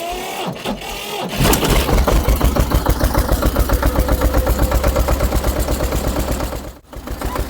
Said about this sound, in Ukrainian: Завели ми його, друзі, із декомпресора, так він не хотів заводитися.